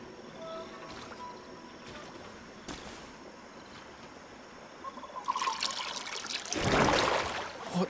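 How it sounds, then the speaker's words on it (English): Potion poured onto altar stones in GreedFall, a soft trickling and splashing of liquid that swells into a louder gush toward the end, over a faint ambient background. "That must be where we need to pour the potion."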